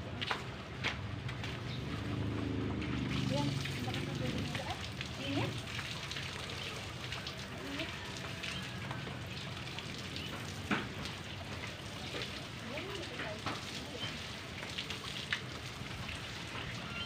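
A shower runs at a beach resort in Lemery, Batangas, with a steady hiss of spraying water splashing nearby, while people talk intermittently over it.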